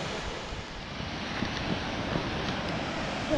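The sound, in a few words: Devils Bridge waterfall in Wales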